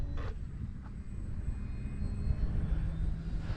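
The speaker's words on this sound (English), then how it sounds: "Let's see if we can't do a nice scale takeoff here" A HobbyZone Carbon Cub S2 RC model airplane flies overhead after a quick takeoff from a runway, its small electric motor giving a steady, fairly faint drone under outdoor wind noise, with no talking.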